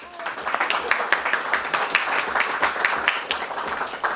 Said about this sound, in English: Please, a round of applause for Heather Butts.